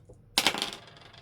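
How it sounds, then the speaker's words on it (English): A pair of dice clatters onto a surface, a sudden bright rattle and tumble that quickly settles and fades within a second, alone without talk. "And we're going to roll 2 dice, see where we land."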